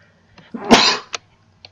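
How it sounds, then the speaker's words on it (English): A single loud, close sneeze bursts out sharply and is framed by faint breaths and small clicks in an otherwise quiet room during a gaming session. "I think I got the mute off on that sneeze!"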